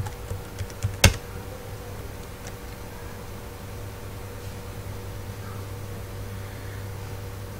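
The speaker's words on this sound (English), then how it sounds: "so type the credential." A few quick keystrokes tap out login credentials on a computer keyboard at a server. The short burst of clicks comes early, then only a low, steady machine hum remains.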